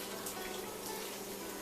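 Hot water that has just boiled is poured over raw zucchini noodles in a kitchen, giving a steady, close splashing pour that runs through the whole moment without pause.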